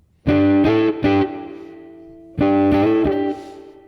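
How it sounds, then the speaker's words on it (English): Electric guitar played through a tube amp with distortion rings out in a few loud, sustained chord strikes, then a pause, then another run of strummed chords that fade out, with no talking. "when you have work with a tube amp, you have this distortion thing"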